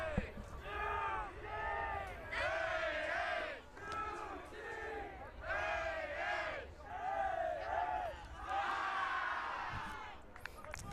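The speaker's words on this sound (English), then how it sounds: "Love that little cheer there from Utah." Players from the Utah Swarm under-20 boys' ultimate frisbee team chant a rhythmic group cheer at a youth championship final, several loud shouted bursts rising and falling in call-and-response phrases against a field-side crowd.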